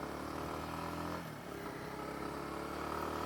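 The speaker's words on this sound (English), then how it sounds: "It's got like a little bit of a dirt bike sound to it, and I guess that's probably because this is the KLX 230 engine" A 2025 Kawasaki W230 motorcycle running its KLX 230 single-cylinder engine, a steady close mid-pitched drone with a slight dip near the middle, then holding even with no talk.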